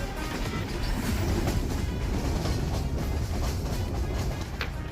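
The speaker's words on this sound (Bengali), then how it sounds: "রেল লাইনের উপরে আমাদের ট্রেন ছুটে চলেছে" Train running across Hardinge Bridge over the Padma river, a steady rumbling roar with rattling clatter from the wheels and carriages, heard from on board at constant loudness.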